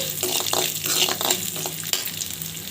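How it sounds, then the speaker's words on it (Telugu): Brinjal pieces sizzle and crackle in a hot pan, with occasional stirring scrapes and a brief clack partway through. "ఇవి బాగా వేగాక వంకాయ ముక్కల్ని ఇందులో యాడ్ చేసుకున్నాము"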